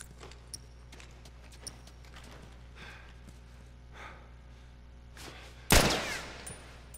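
A single loud gunshot from a firearm in The Last of Us rings out sharply and decays briefly, following a quiet stretch of low ambient hum with a few faint taps.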